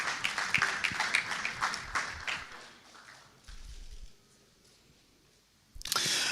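A crowd at a Ghana business forum applauds a president, with dense clapping and camera shutter clicks. The applause fades after a few seconds into near quiet before a sharp burst of noise at the end.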